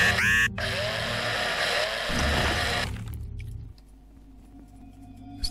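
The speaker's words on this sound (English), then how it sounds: "But I need the drill for extracting it." A handheld drill in the Breathedge space-survival game extracting paint from a tank, a loud whining mechanical drone that runs for a few seconds, then cuts off, leaving a quieter hum that fades away.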